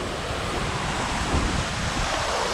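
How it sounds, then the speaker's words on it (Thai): Jok Kradin waterfall in Thong Pha Phum National Park, Kanchanaburi, Thailand, pours in a constant, dense, loud roar of falling water that stays even throughout, with no voices. "ตอนนี้ลงมาน้ำตกจอกดินครับ"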